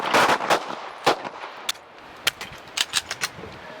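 Sharp pistol shots crack out at an outdoor shooting range, a quick cluster of reports followed by several more single shots spaced through the clip, loud and close.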